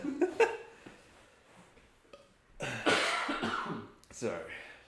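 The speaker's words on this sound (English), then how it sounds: "just burp and cough break right there" A person coughing and clearing their throat close to the microphone in a casual podcast recording, several short harsh bursts early, then a longer rough spell and a final burst, mixed with speech.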